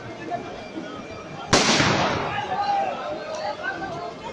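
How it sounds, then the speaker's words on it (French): A sharp firecracker bang cracks out suddenly at a street protest in Nantes, its burst ringing on for a moment over a murmuring crowd and distant chatter, with more faint pops afterward. "il y a des pétards de partout"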